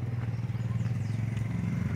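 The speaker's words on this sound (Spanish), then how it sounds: "A un lado, para que suba la moto" A motorcycle coming up a street, its engine a steady low rumble with a faint rattle, continuous throughout at moderate distance.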